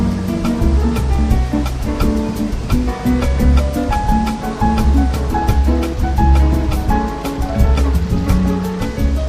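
Steady, loud rushing water roars without a break, a dense wash of falling spray close by, from a waterfall on Cheonggyecheon stream in Seoul.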